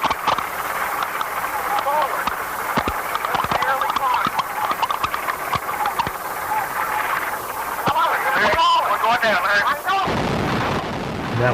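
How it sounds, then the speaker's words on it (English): A commercial jet crashing in icy weather after a wing stall, as heard on a cockpit voice recording: a loud, continuous roar full of sharp knocks and bangs runs throughout and ends in a sudden cutoff. "That was the sound of the impact."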